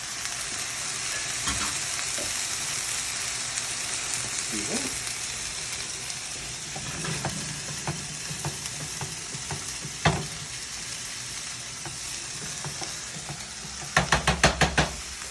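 Asparagus browning in a pan with a little fat: a steady, close sizzle and crackle with occasional knocks of utensil against pan, ending in a quick burst of taps.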